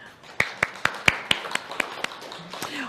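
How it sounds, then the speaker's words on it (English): Sparse clapping from a church congregation welcoming first-time visitors, about ten distinct claps in an uneven rhythm, fairly close, with faint room murmur underneath and no full applause. "Gently raise your hand and just let us welcome you with a warm applause."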